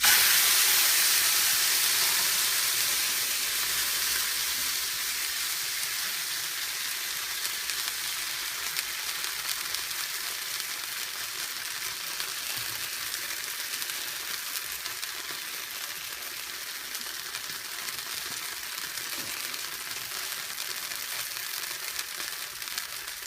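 Bread uthappam frying in a little oil on a pan gives a steady, close sizzle and hiss that fades slowly, with no talk over it.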